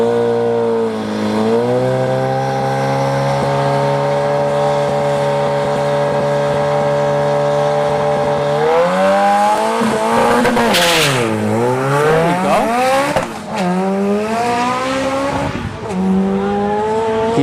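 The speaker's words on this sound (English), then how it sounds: "let's see if this Civic will ride the clutch this time and not dump it" A turbocharged B-series Honda Civic EG roars at a drag strip: a loud, steady engine drone holds, then revs climb and dip through quick shifts as the car launches and pulls hard down the track.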